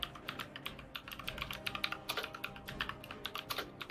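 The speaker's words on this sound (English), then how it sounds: "I hear typing." Fingers type rapidly on a computer keyboard close to the microphone, a quick uneven run of light clicking keystrokes, fairly quiet, with no voices.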